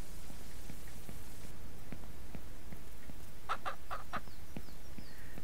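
Chickens cluck in a farm simulation game, several short clucks bunched near the end over a steady hum of game ambience, with no talking.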